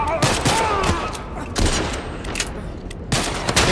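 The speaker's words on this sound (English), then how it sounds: "I think I shot the hair off that guy." Gunfire in The Last of Us Part 1 during a fight with bandits: several sharp, loud shots crack out in a loose sequence, with reverberant tails between them.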